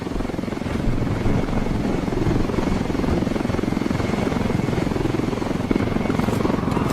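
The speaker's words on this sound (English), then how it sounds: "Weaver, Nomad and Holt are base jumping from the helicopter." A helicopter's rotor in Ghost Recon Wildlands thrums steadily and loudly, a dense, continuous whirring that stays close throughout.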